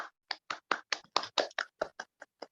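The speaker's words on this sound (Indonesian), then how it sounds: "Tepuk tangan untuk kita semua." A small group in a group counseling practice session claps together in a short burst, about a dozen sharp separate claps in an uneven rhythm, close and fairly loud.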